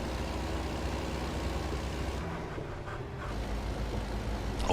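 Truck engine drone from American Truck Simulator, with a rough, grinding gear change in the middle that briefly dips the engine note before it drones back up. No one speaks.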